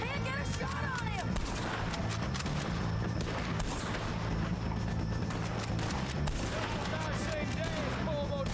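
Gunfire in a Red Dead Redemption 2 shootout against O'Driscoll gang members: dense, continuous volleys of shots and booms throughout, with voices shouting over the battle.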